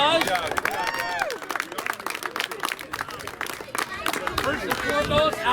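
A crowd gives a round of applause for the winning 9U division team at a youth tournament wrap-up, a few seconds of scattered clapping and cheers mixed with background chatter.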